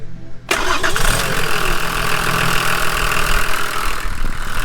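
A Volvo 740 with a D24T turbo diesel, long abandoned, cranks briefly and catches, then settles into a loud, steady, clattering diesel idle close by with no pause.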